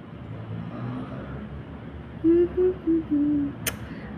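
Road traffic hums low and steady in a hilly city setting, with a series of four short, loud car horn toots near the end and a brief sharp click just after.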